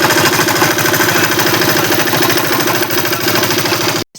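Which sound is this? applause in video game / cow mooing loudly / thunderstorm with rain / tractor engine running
tractor engine running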